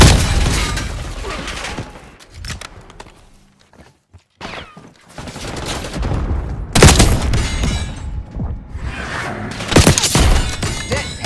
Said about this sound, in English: concussion grenade.